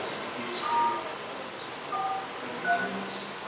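Telephone keypad DTMF tones dialing star 43, three short separate beeps spaced about a second apart over a steady hiss of room noise.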